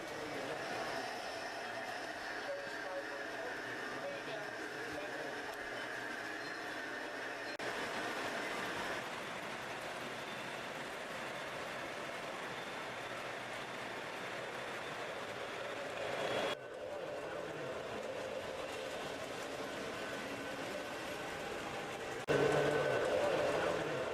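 Model trains run on a large railroad layout with a helix, producing a steady rolling rumble and hum that shifts in level at a few points. The sound stays continuous throughout.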